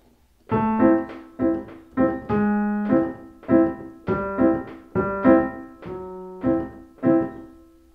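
Piano chords are struck in a bouncy, syncopated rhythm, about a dozen clear hits with short gaps, close and moderately loud.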